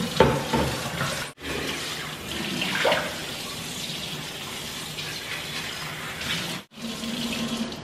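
Running tap water splashes over items being washed at a sink, a steady close gush broken by two brief pauses where the flow stops, with no talk.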